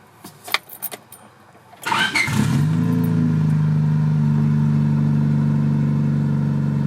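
A turbo D16 Honda Civic engine cranks and catches after a few clicks and key sounds, then revs up and holds a loud, steady, close drone without talk.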